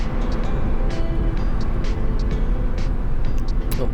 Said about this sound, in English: Just cruising here in 4th gear.